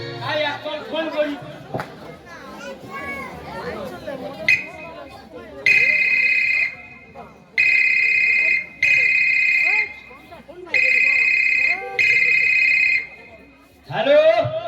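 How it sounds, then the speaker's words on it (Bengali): A phone call being placed: after a stretch of speech, several loud electronic ringback tones sound in bursts of about a second each, separated by short pauses, with talk resuming near the end. "তাই এখন ফোন করি।"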